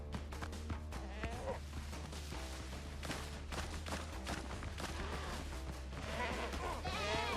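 Goats bleat repeatedly in a pirate video game, loud nasal cries overlapping amid a busy, noisy scene with crashes and game sounds.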